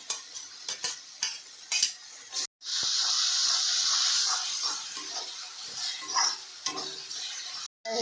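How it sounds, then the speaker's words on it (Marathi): Onion, tomato, and ginger-garlic-chili paste sizzle steadily in a hot pan for a Malvani-style dish, a loud continuous frying hiss after a few short clatters, with no talking. "आता कांदा टमाटो भाजून घेतो आणि त्याच्यात आला लसूण पेस्ट टाकेल"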